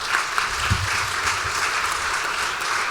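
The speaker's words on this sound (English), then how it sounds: "huge round of applause for them" Audience applause at an all-candidates election debate in Peterborough, a steady wash of many hands clapping together, fairly close and continuous throughout, with no talk over it.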